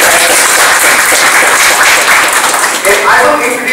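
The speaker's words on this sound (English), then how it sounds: "I would like a round of applause for everybody for making this happen" A crowd at a Scrum meetup in Bangalore bursts into steady, dense applause that holds at full strength for a few seconds before thinning slightly at the end.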